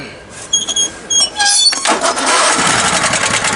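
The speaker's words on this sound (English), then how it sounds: "since the exhaust is still hot, it should fire right up." An off-road riding mower with a still-hot exhaust cranks in short bursts, then catches and settles into a loud, steady running engine close by.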